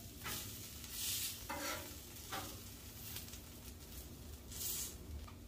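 Smash burgers fry on a Blackstone griddle with a soft, steady sizzle and a few brief scraping bursts as they are worked, all fairly quiet and close.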